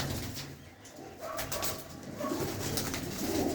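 A prize-winning racing pigeon gives soft, throaty coos close at hand. The low murmurs rise and fall across a few seconds over faint background noise.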